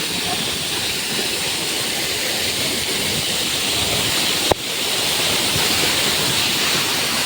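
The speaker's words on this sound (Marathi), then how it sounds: "हे बघा कसा धबधबा आहे." Waterfall at Harishchandragad, a steady, loud broadband rush of falling water that holds even throughout, with one brief sharp click near the middle and no talk.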